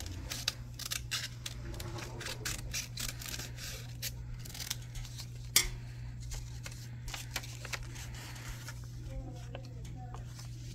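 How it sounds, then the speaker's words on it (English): Scissors cutting along the edge of folded paper, a series of close, quick snips and crisp rustles over a low steady hum with a louder snap midway. "After you're done folding, you have to cut the edge over here"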